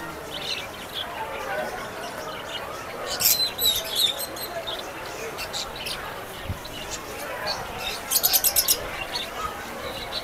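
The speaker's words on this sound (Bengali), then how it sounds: "এই স্টলটা হচ্ছে Ayesha bird, love bird, JP ইত্যাদি পাখি রয়েছে।" Caged lovebirds and other pet birds chirp at a stall during a large pet exhibition, with short bright bursts of tweeting over a busy crowd murmur and nearby talk.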